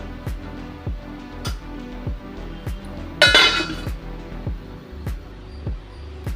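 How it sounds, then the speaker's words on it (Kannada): A metal lid clanks down onto a cooking pot of stuffed ridge gourd curry in one bright, close clink, set among a steady run of soft rhythmic kitchen taps. "ಈಗ ಇದನ್ನು ಲಿಡ್ ಕ್ಲೋಸ್ ಮಾಡ್ತೀವಿ"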